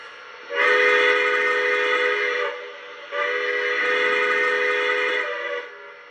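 A Lionel New York Central Dreyfuss Hudson model train whistle sounds two long, sustained blasts with a brief dip between them, loud and close against quiet.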